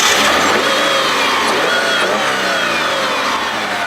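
A 2003 Kia Sorento with a 3.5-litre double overhead cam V6 driving, a steady loud engine drone with a gently shifting pitch and constant road noise, no voices.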